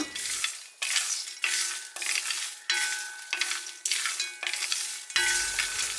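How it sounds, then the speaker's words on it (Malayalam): Roasted peanuts frying with curry leaves in a pan, a bright sizzle broken into short bursts by repeated stirring, with spoon scrapes at a close, moderate level and no talk. "ഇതിലേക്ക് നമ്മൾ വറുത്തെടുത്തിട്ടുള്ള കപ്പലണ്ടി ഇട്ട് കൊടുത്തിട്ട് ഒന്നുകൂടി ഒന്ന് ഒരു രണ്ട് മിനിറ്റ് ഒന്ന് നന്നായിട്ടൊന്ന് ഫ്രൈ ചെയ്യുക"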